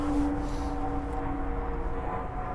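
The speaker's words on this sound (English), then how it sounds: "plane overhead" A low, steady droning rumble of an airplane passing overhead near a rail line, continuous and fairly distant, with no talking.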